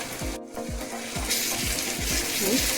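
Whole masoor lentils with onion and turmeric being sautéed in a pan for a dhaba-style curry; a steady sizzle runs throughout, cut by regular rhythmic scrapes of a spoon stirring close by.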